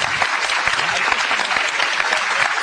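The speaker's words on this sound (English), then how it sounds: "I think he deserves a round of applause." Audience applause at a talk on Catholic teaching, dense, steady clapping from a sizeable crowd, loud and even throughout.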